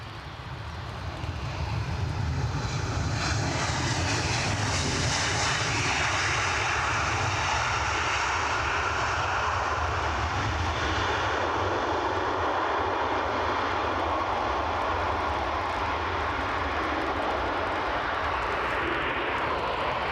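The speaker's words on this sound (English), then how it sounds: "All I can tell is it's a Ryanair 737." A Ryanair Boeing 737 jet airliner roars steadily for about twenty seconds, a loud sustained engine rumble with a broad whooshing hiss that swells slightly and holds, with no talking over it.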